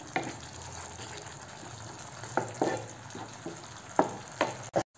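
Curd is stirred and fried in a pan, a soft steady sizzle under scattered spoon scrapes and taps against the pan, fairly quiet and close.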